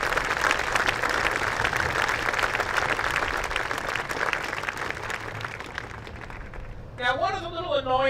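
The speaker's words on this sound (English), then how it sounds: "Could we have a round of applause for all these folks" A room full of people applauds steadily for several seconds, then the clapping fades as a voice begins speaking.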